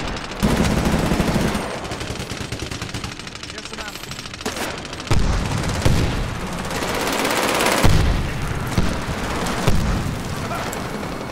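Explosions and heavy gunfire in a Medal of Honor: Warfighter multiplayer match, loud booms at intervals over continuous automatic fire, with a voice talking over the battle.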